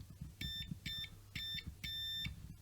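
Multimeter in continuity mode giving short electronic beeps as the probes touch, four separate tones of roughly half a second each in a steady on-off pattern, close and clear over faint low hum.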